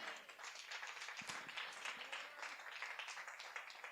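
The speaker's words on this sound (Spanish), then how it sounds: "Aplauda al Señor." A church congregation claps, a very faint, steady patter of hands heard from a distance through a quiet room.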